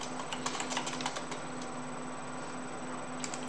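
Quick bursts of clicking keystrokes on a computer keyboard, fairly quiet and close, with a faint steady electrical hum underneath.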